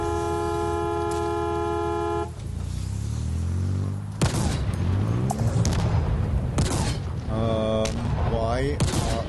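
Gunfire, booms and vehicle noise in the video game Halo Infinite: loud, dense bursts of shots and explosions after a tonal horn-like blare, with voices speaking over parts of the action.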